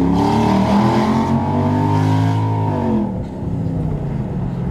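A straight-piped Jaguar XJ8 drones loudly and continuously from inside the car, a rich rasping engine and exhaust note that swells, holds and then eases off slightly as revs drop.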